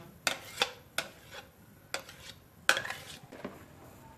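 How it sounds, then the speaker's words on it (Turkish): Utensil slowly stirring a tiramisu mixture of cream, eggs and cheese in a pot, giving a series of soft scraping and clinking strokes against the metal at irregular intervals, close and fairly quiet. "söndürmeden yavaş yavaş karıştırmaya devam edeceğim"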